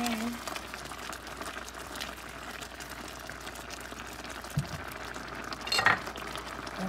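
A spoon stirring Creole seasoning into a pot of gungo rice and peas, soft scraping and faint metallic clinks over a low bubbling simmer, with a couple of louder knocks against the pot near the end.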